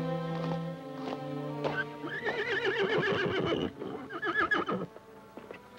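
Several horses neigh and whinny loudly in a 1951 Western film scene, with repeated high, wavering calls close by, overlapping one another, and a few hoof clip-clops underneath.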